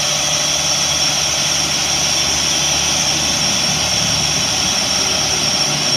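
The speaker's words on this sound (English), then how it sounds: "got a 2005 International 4400 DT466 diesel power, 5-speed Allison automatic." A 2005 International 4400 crane truck with a DT466 diesel engine and Allison automatic runs at a steady, loud idle, a continuous low rumble with no talk.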